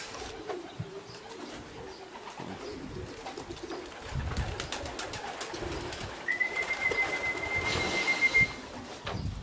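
Racing pigeons coo and flutter around a loft during a homing race arrival, soft repeated cooing throughout with rustling and a brief high whistle-like tone, moderately close, no talking.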